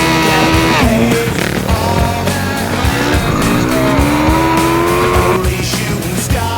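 A Kawasaki ER6-n motorcycle doing stunts and drifts revs loudly, its engine note climbing and falling in sustained whines, with tire squeals and skidding throughout.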